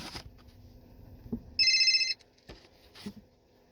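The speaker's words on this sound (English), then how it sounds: "sorry, the phone was ringing." A telephone rings once indoors, a short, bright electronic trill lasting about half a second, clear and fairly close, set between quiet room noises and small knocks.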